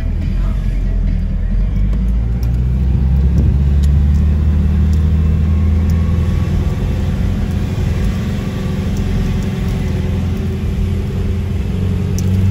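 Heavy road traffic in Baguio City, heard from inside a vehicle: a loud, steady low engine and road rumble throughout, with people talking over it.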